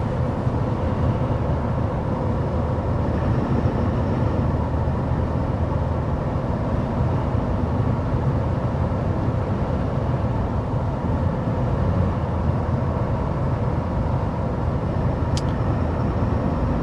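Steady broadband road and engine hum inside the cabin of a 2024 GMC Sierra 2500 HD AT4 pickup cruising at 55 mph, a constant low rumble with no talk.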